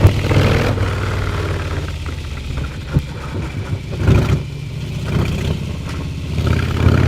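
A 2022 Harley-Davidson Sport Glide motorcycle rumbles steadily close by while cornering, with sharp scraping clatters from the bike grinding out at about the 3, 4.2 and 5.8 second marks, all under constant wind and engine noise.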